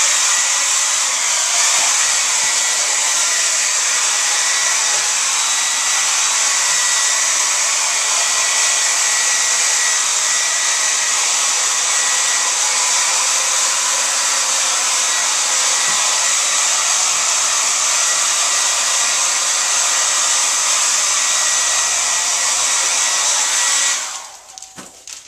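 A hair dryer blows steadily and loudly on a Venetian plaster sample for about 24 seconds, a constant high-pitched whoosh with no talking, then it cuts off abruptly at the end.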